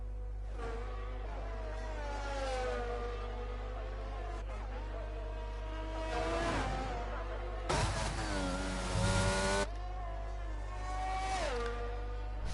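A race car engine revs and shifts through gears on a flying lap in a sim racing game set at Canada, whining steadily with rising and falling pitch and one brief louder blare partway through, under a constant low hum.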